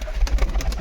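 Pigeons coo in a home loft, a low throaty murmur pulsing in several quick repeats over a steady rumble, close and moderately loud with no talk.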